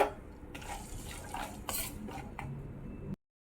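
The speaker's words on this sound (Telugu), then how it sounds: "వేగుతున్నాయి శనక్కాయ విత్తనాలు. చూడండి ఫ్రెండ్స్, కలర్ మారుతున్నాయి, బాగా వేగుతున్నాయి, ఫ్రై అవుతున్నాయి." Peanuts frying in a pan while being stirred, with close scraping and rattling against the pan over a low sizzle, a few sharper clinks, then an abrupt stop.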